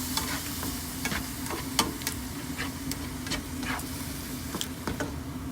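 Food being stirred as it fries in butter in a pan, with a steady sizzle under repeated scraping and clinking of a utensil against the pan, close and fairly quiet, no talking.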